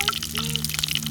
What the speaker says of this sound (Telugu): సరిపడినంత ఆయిల్ వేసుకొని వేడి కాగానే బగారా మసాలా వేసుకున్నాము